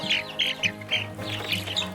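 A hen and her chicks in a small pen squawk and cluck in short, repeated bursts, close by and fairly faint, with about six quick calls over two seconds and no talking.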